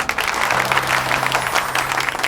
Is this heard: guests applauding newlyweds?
yes